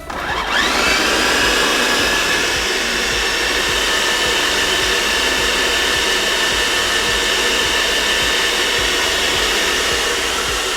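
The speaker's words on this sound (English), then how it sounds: "So I'm just going to put this right on my food processor and put the top on, and here we go." A food processor whirs steadily and loudly for the whole stretch as it blends ingredients for Trini doubles, a continuous motor hum with no talking over it.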